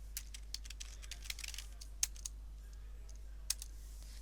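Someone types on a computer keyboard, close and fairly quiet: a rapid burst of keystrokes at first, then sparser, scattered taps over a low steady hum, with no talking.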